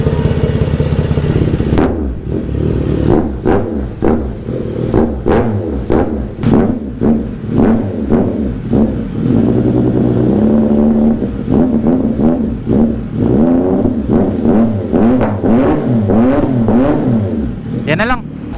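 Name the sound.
CFMOTO 675NK motorcycle revving without exhaust pipe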